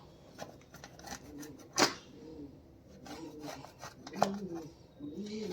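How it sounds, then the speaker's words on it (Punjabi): Knife cutting warm gachak, a sesame and jaggery brittle, into pieces: scattered scraping and crunching cuts with one sharper crack, heard close under a woman's ongoing speech. "ਮੈਂ ਬਹੁਤ ਚੋੜੇ ਚੋੜੇ ਨਹੀਂ ਪੀਸ ਕਰ ਰਹੀ ਬਸ ਇਹਨੂੰ ਕਰ ਦੋ"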